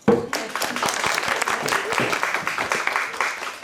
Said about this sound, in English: I want to clap for everybody